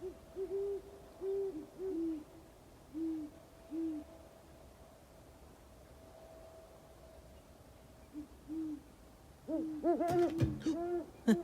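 An owl hooting from the top of a tree: a series of soft, low hoots in short phrases, spaced by pauses, then a louder, denser burst of hooting near the end, alone in a quiet setting.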